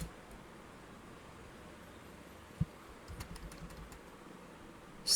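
A computer keyboard taps lightly in a short burst of soft key clicks, quiet and close, with a single sharper click just before and a faint hiss of room noise throughout.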